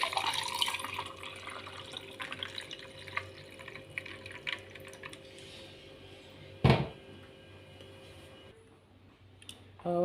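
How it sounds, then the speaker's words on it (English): Watermelon juice pours into a glass over ice with soft, trickling, splashy sounds, followed by a single sharp clink and then a quiet stretch. "In a glass with ice, you now pour your watermelon juice."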